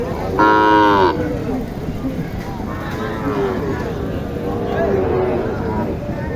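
A Sahiwal heifer moos once, loud and close, at a busy cattle market, with a long harmonic call followed by crowd chatter and more distant lowing underneath.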